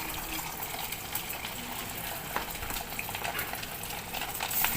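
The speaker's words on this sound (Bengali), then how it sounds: "কড়ায় তেল গরম করে একে একে এই চিকেনগুলোকে ভেজে তুলব" Chicken pieces fry in hot oil in a kadai for chilli chicken, producing a dense, even, crackling sizzle that runs without pause from start to finish, close and fairly loud.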